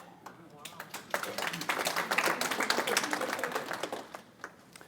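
Audience at a talk on Stone Brewing Company breaks into clapping, a dense patter rising after a second, peaking mid-clip and tapering off toward the end, fairly quiet overall.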